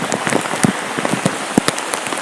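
Heavy rain falls steadily, with dense, irregular drops pattering close by on a hard surface and occasional sharper splashes standing out above the constant wash.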